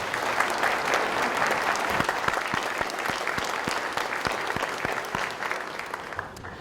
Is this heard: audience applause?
yes